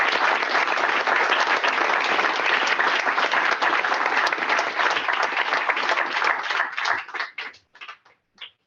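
Sustained applause fills a room at a Morris Township committee meeting, dense and steady, then thins into a few scattered claps before stopping.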